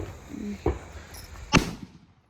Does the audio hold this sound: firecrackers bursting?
yes